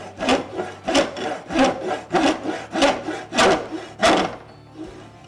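A hand saw cuts a wooden chine log on a quarter-scale boat build, with about seven steady, rasping back-and-forth strokes, close and fairly loud, pausing briefly near the end.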